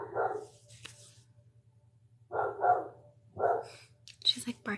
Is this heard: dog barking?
yes